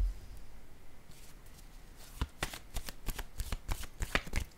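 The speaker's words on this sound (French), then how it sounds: "Je vais piger une autre carte pour ici." Tarot cards are shuffled and drawn. A soft papery rustle is followed by a run of crisp riffling snaps and flicks, close and fairly quiet.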